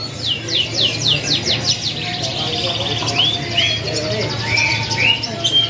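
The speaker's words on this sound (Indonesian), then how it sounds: "dan untuk kenari gacoran dari seri AF seri AF di sini juga tersedia kan kawan" A canary of the AF line, a bird trained for loud, persistent song, sings rapid rising trills and chirps up close, while someone talks steadily underneath.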